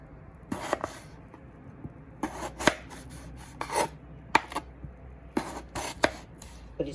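A knife cuts a peeled potato into wedges on a board, giving a run of short crisp chopping strokes grouped into several bursts, close and fairly loud with no talk.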